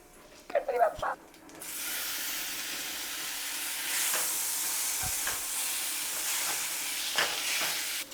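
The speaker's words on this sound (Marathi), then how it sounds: "आता मी माझा स्पॅगेटी पास्ता टाकते" Spaghetti pasta dropped into a pan of burnt garlic, followed by a steady, close sizzle and hiss of frying with brief clatter and stirring at the start.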